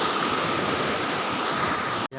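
The fast-flowing Cijalu River roars as a steady, loud, broadband rush of water close by, with no voices, until it cuts off abruptly near the end.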